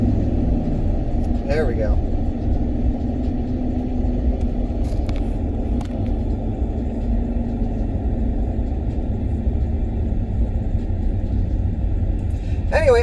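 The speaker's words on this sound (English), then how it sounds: "Let's do a little acceleration." A 2010 Ford F-150 Harley-Davidson pickup with a 5.4-liter Triton V8 and 6-speed automatic pulls away, its engine a steady low rumble heard from inside the cab, with a brief spoken line near the start.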